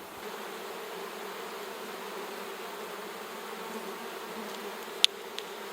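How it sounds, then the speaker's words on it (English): Honeybees buzz around an opened hive as frames are lifted out, a steady close drone that fills the whole stretch, with a couple of sharp clicks near the end. "the bees that are flying are not congregating on the frames that I'm moving"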